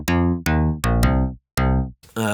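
A Yamaha DX7 synth patch recreating an 80s sound plays as a run of loud, bright stabs with rich harmonics. Each tone decays quickly, with short gaps between them, and a different timbre comes in at the end. No one speaks.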